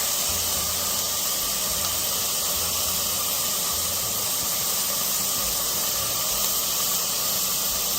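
Chopped garlic sautéing in a pan while making saffron rice with basmati, giving a steady, continuous sizzling hiss that holds at an even level throughout, with no talking.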